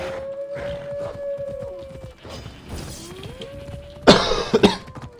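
A person coughs while playing Assassin's Creed Odyssey, with a sharp, close cough burst near the end over quiet game sounds, including hoofbeats and a horse.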